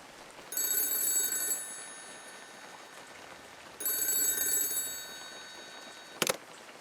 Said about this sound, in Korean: 다시 전화기가 울렸습니다.